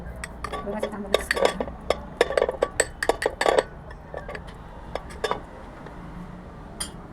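A homemade face pack of Aparajita seeds and flowers with tulsi is stirred with milk and rose gel in a bowl, a spoon clinking and scraping against the sides in irregular close bursts, with quieter scraping afterward.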